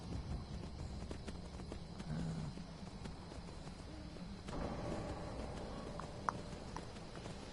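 Hooves clip-clop at a steady walking pace in Skyrim gameplay, quiet and slightly distant, over a low background hum.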